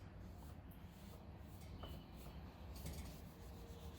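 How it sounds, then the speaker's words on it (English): Polish is spread along a sword blade with a cloth, a soft continuous rubbing and rasping close by, quiet and steady over low background hum, with slightly stronger strokes toward the end. "So I just put some on the sword, then I just spread it out before I start polishing."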